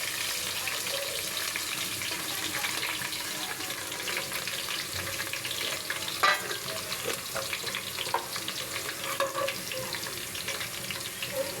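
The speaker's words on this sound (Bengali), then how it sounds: "এখন হচ্ছে পোলাও রান্না করতেছি" Pulao cooks in a pan with a continuous close sizzle and occasional stirring scrapes, plus a few louder clinks toward the end; nobody talks.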